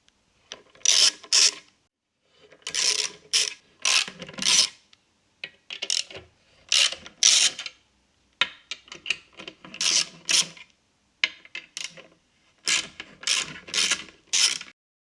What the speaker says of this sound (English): unbolt pressure plate by removing the 6 nuts